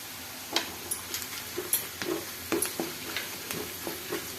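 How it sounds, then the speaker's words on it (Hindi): Onions frying in a pan, a low continuous sizzle with scattered sharp ticks and scrapes of stirring, fairly quiet and close with no talk. "पियाज एमती लाल हेबा पर्यंत भाजी नेबे"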